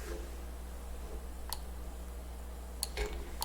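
Computer mouse clicks come in a few sparse, faint, sharp ticks. There is a single click, then a quick cluster of clicks near the end over a low hum. No voice is heard.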